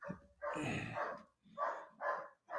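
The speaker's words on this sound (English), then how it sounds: "your dogs are going crazy over there" Several dogs bark in rough bursts, a long run of barking followed by three shorter barks, fairly faint and somewhat distant outdoors.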